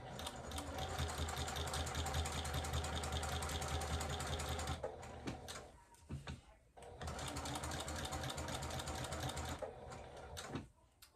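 A sewing machine stitching straight lines across a quilt runs in a fast, steady mechanical whir with rhythmic needle knocking, stops briefly in the middle, then starts again at the same pace, close and without talking.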